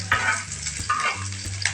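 Rice frying and being stirred in a wok, a steady close sizzle broken by several scraping stirs of the spatula, with no talking.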